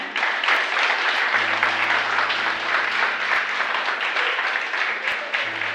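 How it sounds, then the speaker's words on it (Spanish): A church congregation applauds during a worship service, steady dense clapping filling the room at even loudness throughout, with a low sustained organ or keyboard drone underneath and no speech. "Denle un aplauso al Señor."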